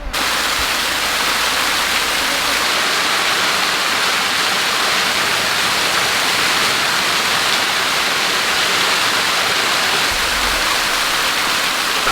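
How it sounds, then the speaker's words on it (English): Big forest waterfall pouring into a swimming hole up a creek, a steady, dense roar of falling water that holds evenly throughout and fills the whole clip with no voices. "this big waterfall coming down into a swimming hole there"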